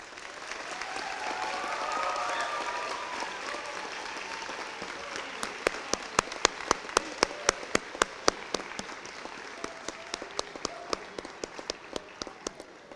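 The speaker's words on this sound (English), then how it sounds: "I welcome your applause for the class of 2023." Audience applause for the class of 2023 graduating students at a Catholic college Year 12 awards ceremony, a dense steady crowd clapping that thins into sparse, distinct individual claps near the end.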